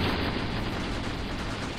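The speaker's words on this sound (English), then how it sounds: "Still a lot of gunfire going on," Gunfire from a battle in the war game Graviteam Tactics, set during the Soviet invasion of Afghanistan: a dense, continuous rumble of distant shots and blasts with no clear individual reports.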